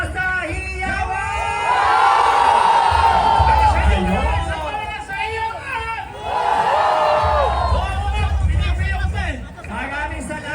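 A big crowd cheers and whoops at a civic street parade and festival in Pasig, Philippines, loud swelling shouts rising in two waves with a babble of voices underneath.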